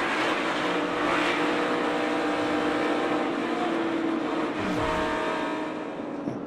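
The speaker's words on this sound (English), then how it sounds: "You can hear the RPMs pick up." A roar of multiple Cup Series stock car engines at high revs during a race at Talladega, dense and continuous, with a car whooshing past partway through.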